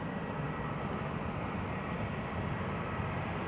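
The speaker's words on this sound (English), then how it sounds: "So the heavily delayed Paris Charles de Gaulle flight is now on the move." EasyJet airliner on the move for a delayed Paris Charles de Gaulle flight at Newcastle Airport, giving a steady low engine rumble and hiss, fairly distant and unbroken, with no voices.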